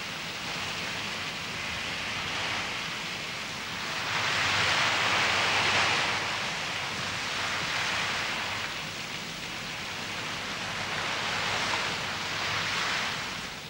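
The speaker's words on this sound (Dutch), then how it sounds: "De korte, hevige regens veranderen de steppen binnen 30 minuten in 1 grote modderpoel." Heavy, steady rain on open steppe grassland, a dense broadband wash that swells louder in waves around the middle and near the end, with no voices.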